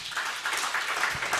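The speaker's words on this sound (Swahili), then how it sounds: "Simpigie Yesu makofi." A church congregation at a deliverance service claps for Jesus, a dense burst of applause from many hands that stays steady and fairly loud throughout.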